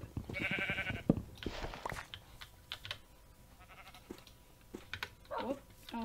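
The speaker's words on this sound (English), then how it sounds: "Hello, sheep." Keyboard clicks and game noises from Minecraft run throughout; a single short sheep bleat sounds close and clear near the end.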